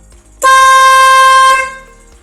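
A newly wired car horn sounds one loud, steady blast of about a second, close up, then cuts off into quiet.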